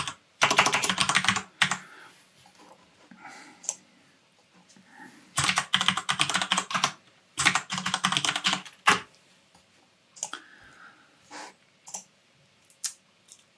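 Someone types a username on a computer keyboard in rapid bursts of clattering keystrokes. The bursts are separated by pauses and scattered single clicks, close and clear.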